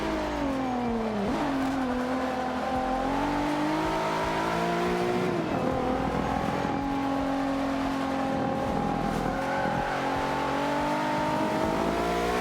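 Infiniti Q50 driven in Forza Motorsport 5 at Eau Rouge, a continuous engine note rising and falling through gear changes with brief tire squeal.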